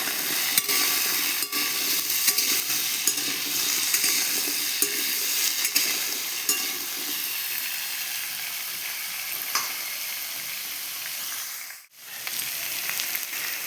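Soaked chickpeas and vegetables sauté in a pan, giving a continuous crackling sizzle with frequent scraping stirs and clicks, close and steady, with a brief quiet dip near the end.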